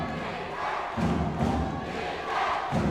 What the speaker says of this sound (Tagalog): I just love the reaction